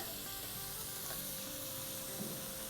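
Prawn pulao ingredients sautéing in a pan make a faint, even frying hiss that stays continuous for a few seconds, with no clear stirring strokes.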